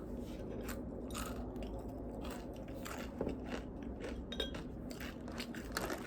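Granola is bitten and chewed right at the microphone, giving soft, steady crunching and crackling. The eating is quiet and continuous, with no speech.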